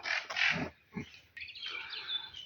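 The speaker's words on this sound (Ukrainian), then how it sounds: "Тут чути, як співають птахи." Birds chirp and sing in short bursts, fairly close, with a brief gap before more continuous twittering resumes, at a men's monastery in Zakarpattia, Ukraine.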